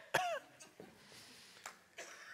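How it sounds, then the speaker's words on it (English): A single person clears their throat once, a short sharp rasp up close, followed by faint, sparse room noise with small shuffles and soft sounds of a quiet indoor space. "You clear your throat as to create a hint that a person is standing"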